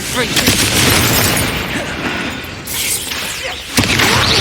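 Dense, loud booms and crackling bursts of a Confringo fire spell exploding during combat in the Hogwarts Legacy video game, layered continuously with battle effects and a voice calling out.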